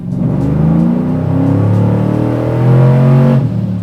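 A cammed LS3 in a Chevy TrailBlazer SS revs on a dyno during a partial-throttle pull: a loud, sustained engine roar that climbs in pitch and holds near the end, with no voices.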